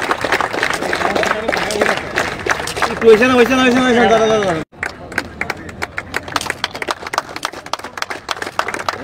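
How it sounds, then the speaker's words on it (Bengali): An audience applauds at a football first-division league champion trophy ceremony in Tripura. A voice speaks over crowd noise at first, then scattered, uneven clapping breaks out and continues in bursts of varying loudness. "সবাই প্রয়োজনে হাততালি দেবেন প্লিজ।"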